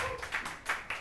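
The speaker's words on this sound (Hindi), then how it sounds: "तालियां" Brief burst of audience clapping after a teacher praises a good question in a class, with several uneven hand-claps across about a second, moderately loud with no talk over it.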